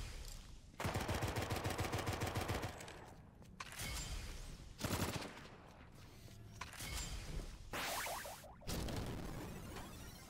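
Gunfire from a weapon in the game Drawn to Death, several loud bursts of rapid automatic shots separated by short pauses, with mechanical clacks between volleys.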